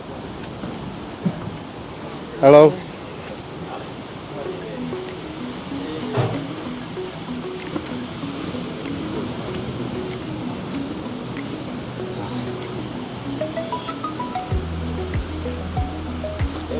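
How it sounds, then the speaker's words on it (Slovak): Ocean waves break steadily on a Sri Lanka beach as a continuous broad wash of surf, with a brief spoken greeting and a few faint voices over it. "Počujeme vlny už."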